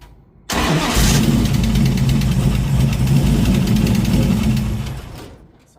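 A 1968 Dodge Charger V8 idling and revving loudly up close, with a steady low rumble and a rapid ticking rocker-arm noise running through it, after a brief quiet start.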